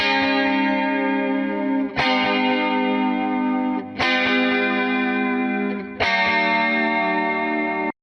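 A sustained, distorted instrumental chord run through a compressor with soft attacks and heavy reverb is struck four times at steady two-second intervals, each swelling in gently and ringing on into the next.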